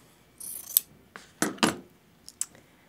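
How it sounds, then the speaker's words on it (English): Scissors snip through quilt fabric at a 45 degree angle in a quiet room, with several crisp, close cuts in quick, uneven succession. "Then you're going to take your fabric right sides up, cut a 45 degree angle"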